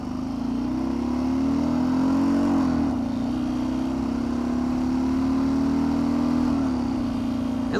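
A diesel-powered Kawasaki KLR motorcycle engine revs steadily under load, a loud continuous drone that rises and holds, dips briefly near the middle, then climbs again, with no talking.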